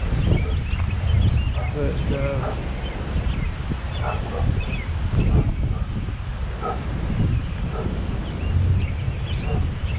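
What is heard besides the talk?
wind blowing outdoors in a garden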